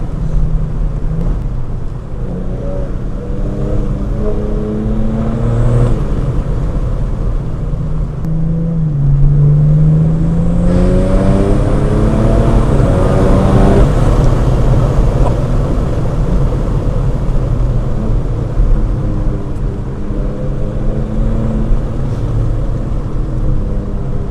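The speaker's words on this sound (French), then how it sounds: "Tu reconnais le son du 6 cylindres, même par essence, quoi, 6 cylindres BM." Loud, sustained run from a Stage 2 tuned 2014 BMW 330d F31 Pack M with a 3.0-litre six-cylinder diesel, its engine climbing through repeated rising pulls and gear changes under heavy road and wind rumble, heard from close by.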